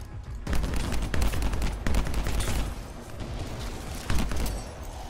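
Rapid assault rifle fire with a sniper scope in the video game Anthem, loud dense bursts and volleys that continue almost without pause, with booming impacts mixed in.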